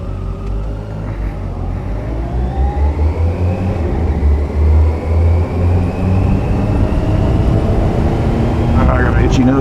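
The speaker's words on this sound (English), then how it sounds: "Give it a little gas once in a while. Clear out the injectors." A Kawasaki ZX-14R motorcycle engine idling loud and close, then blipped with rising revs that climb and swell over the low rumble, with a rough pulsing exhaust throughout.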